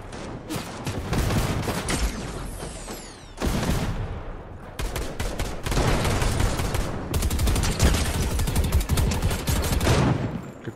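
Gunfire in the video game Fortnite rattles in loud, dense automatic bursts and rapid single shots, nearly continuous across the span with short breaks and little talk.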